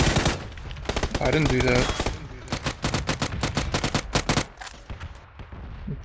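Bursts of rapid gunfire in PUBG, a shotgun among the weapons, crack out in quick volleys, loud and close, with a player's voice talking briefly over the shots.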